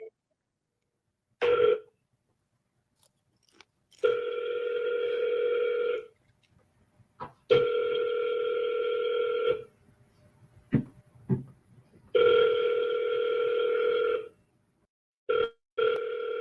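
An outgoing telephone call to a property seller ringing out unanswered, heard as a repeated ringback tone of long, even beeps about two seconds each, separated by silent gaps and a few faint clicks on the line.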